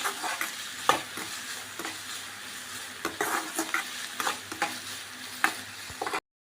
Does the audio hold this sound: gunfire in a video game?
no